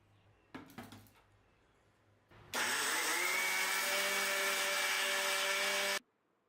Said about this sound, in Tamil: மிக்ஸி ஜாரில் போட்டு